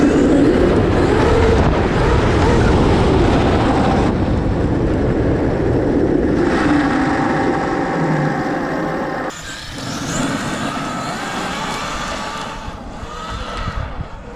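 An Arrma Kraton 8S RC car on a speed run with a Mamba XLX2 motor and Castle 2028 1100kV setup, a loud whining motor roar at full throttle that drops away, then surges again more faintly.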